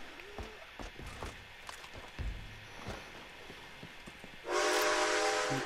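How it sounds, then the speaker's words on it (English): A steam train pulls in during the video game Red Dead Online, ending in a loud, sustained whistle blast over rumbling rail noise. "Tony, the train's here"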